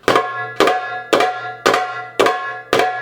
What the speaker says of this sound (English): And again, usually followed with a ka to accent it.